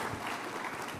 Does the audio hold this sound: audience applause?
yes